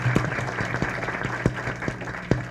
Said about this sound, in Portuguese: uma salva de palmas para os nossos palestrantes